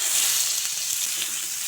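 Chopped onion sizzling and frying in a little oil in a wok, the spot where small mourola fish were just fried for a village-style tel jhal; a steady close, bright hiss runs without pause, with no voices.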